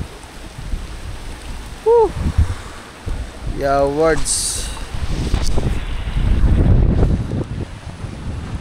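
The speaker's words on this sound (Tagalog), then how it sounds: "So ayan, rumaragas ang tubig sa ilog galing sa bundok." Floodwater from the mountain rushes down a swollen river after a typhoon, a loud continuous broadband roar mixed with wind buffeting, while a person whoops and talks briefly over it.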